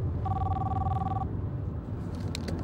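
A car telephone rings once with a steady electronic double tone over low engine rumble, then stops, leaving only the road noise.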